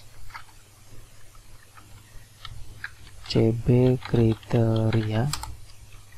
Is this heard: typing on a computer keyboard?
yes